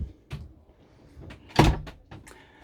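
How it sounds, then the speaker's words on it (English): A sliding door on a motorhome shower being moved, giving several short rattling slides and knocks with one louder clack in the middle, close and alone without talk. "And there is a really sensible sliding door on here."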